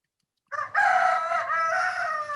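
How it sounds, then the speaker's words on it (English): A rooster crows in the background, one long drawn-out cock-a-doodle-doo held for nearly two seconds after a short opening note, loud and clear against quiet surroundings. "who has the chicken in the background?"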